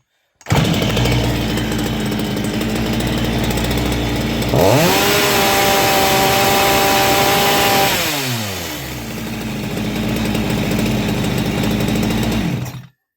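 A Chinese-made copy of a Stihl MS 250 chainsaw runs steadily and loudly up close, its buzzing two-stroke drone rising to a higher rev in the middle before settling back to a steady run.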